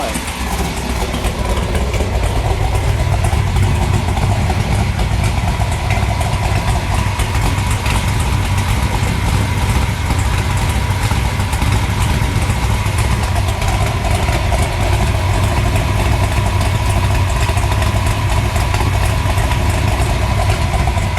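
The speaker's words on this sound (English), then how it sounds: "Rick, just let it idle." A 1960 Chevrolet Biscayne with a 496 cubic inch V8 idles close by, a loud, steady, throbbing low rumble that holds evenly throughout with no speech.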